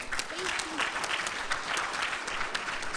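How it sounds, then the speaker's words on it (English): Dense, continuous clapping from a conference audience applauding the guest speakers at WCIT 2016 fills the whole stretch evenly, with a brief voice audible early on beneath it. "a round of applause to all of them"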